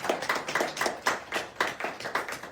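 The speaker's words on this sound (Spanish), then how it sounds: "vamos a dar un aplauso al Señor de la gloria" Church congregation clapping during a Sunday morning Spanish service, a rhythmic, evenly pulsed beat of hands keeping time together, fairly close and moderately loud.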